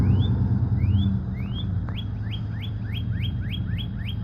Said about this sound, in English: It's a northern cardinal, a male calling.